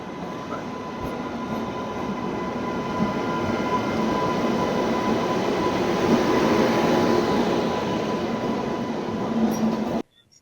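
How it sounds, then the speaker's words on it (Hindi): A train bound for Khatu Shyam, heard from inside a carriage, gives a loud, steady rumble with wheel noise and faint clickety-clack for ten seconds before cutting off abruptly. "अभी मैं बैठ चुकी हूँ ट्रेन में, हमारी ट्रेन आ गई है खाटू श्याम जाने के लिए।"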